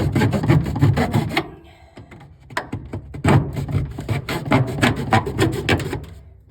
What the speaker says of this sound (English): What I'm gonna do now is just cut a hole in here with a knife.